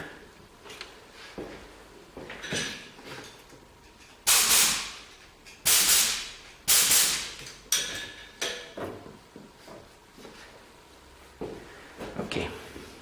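Compressed air blasted over freshly cleaned machine apron parts during reassembly, several loud short hissing bursts in sequence, mixed with quieter clunks and handling noises.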